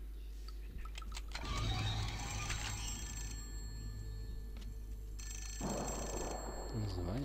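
A telephone ringing in the Suffering horror game, set in an asylum, with repeated electronic rings over a steady low hum. Quiet background sounds surround it, and a voice speaks briefly.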